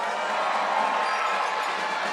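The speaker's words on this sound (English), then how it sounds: "All right, let's give them a round of applause." An audience cheers and applauds for a sixth grade school band after a performance, a bright continuous roar of clapping mixed with whoops and children's shouts, held steady for the whole moment.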